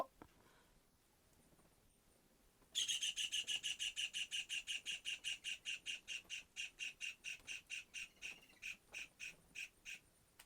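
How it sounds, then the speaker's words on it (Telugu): A bird squawking inside a cave, a long run of sharp, evenly spaced calls starting abruptly and continuing steadily, loud and echoing against a quiet background, gradually slowing toward the end. "అది ఏదో పక్షి"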